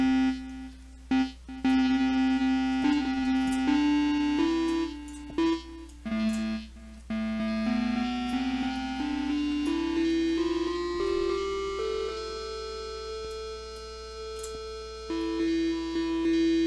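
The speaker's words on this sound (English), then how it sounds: "Next to that we have a delay, standard delay. We have stereo, cross, left, right." Synthesizer from the Mixedfood WT4 in Propellerhead Reason 9.2 played through a stereo delay, a sustained tone gliding slowly upward in pitch with echoing repeats and brief breaks, loud and alone.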